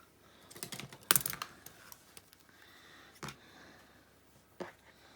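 A few crisp snips and clicks of scissors cutting fabric, in short bursts separated by quiet pauses, close up.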